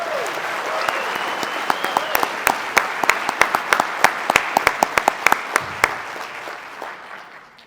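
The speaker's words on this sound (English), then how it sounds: "Let's have a round of applause." An audience at a veterans' winter stand-down event claps in a sustained round of applause, with sharp individual claps standing out over the crowd before tapering off at the end.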